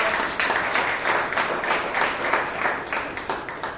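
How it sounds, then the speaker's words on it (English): Toastmasters club members clap for the general evaluator at a meeting, a moderate round of applause with rhythmic pulses from several pairs of hands, held at an even level without speech. "I think the general evaluator deserves a round of applause"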